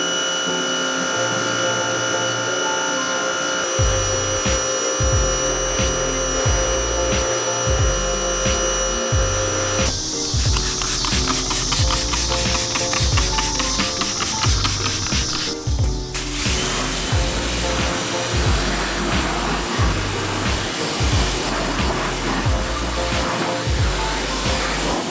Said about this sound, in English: I'm just gonna spray it down with the pressure washer.